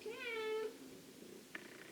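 A female cat in heat lets out one long, loud, wavering howling meow up close, followed by a faint brief chirp after a pause.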